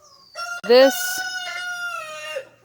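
A rooster crows close by, one loud, full cock-a-doodle-doo rising sharply and then trailing off.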